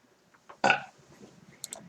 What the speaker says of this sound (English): Did they hear me burp?